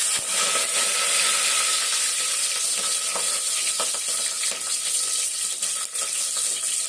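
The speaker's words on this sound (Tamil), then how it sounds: "ரெண்டு பச்சை மிளகாவும் கருவேப்பிலையும் போட்டுக்கோங்க." Green chillies and curry leaves sizzling in hot oil in a frying pan, a steady loud hiss and crackle that runs without a break.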